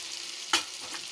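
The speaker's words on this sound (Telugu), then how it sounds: "ఉల్లిపాయలు బాగా వేగిపోయినాయి కదా, వేగిన తర్వాత ఇప్పుడు ఉల్లిపాయ ముద్ద మసాలా కలిపింది" Onions and a ground onion masala paste sizzle steadily in a pan for an aloo egg masala curry, a constant hiss broken by one sharp scrape of stirring midway.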